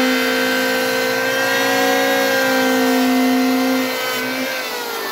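Electric wood planer motor running steadily with a loud, sustained whine, its pitch holding even before dipping slightly toward the end as the load changes.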